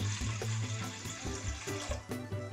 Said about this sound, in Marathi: या पातेल्यामध्ये आपल्याला हे फ्लॉवरचे तुकडे बुडतील एवढे पाणी टाकून घ्यायचं आहे